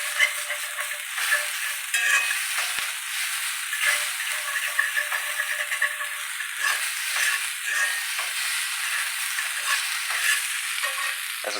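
A plant-based stir fry is stirred around a pan on a stove switched off, with soft scraping and light ticking taps of the utensil over a faint lingering sizzle.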